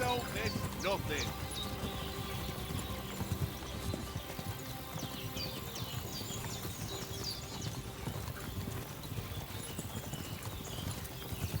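Horse hooves trot in the video game Kingdom Come: Deliverance II, a steady rhythmic clip-clop that stays prominent throughout, layered over game music and ambience.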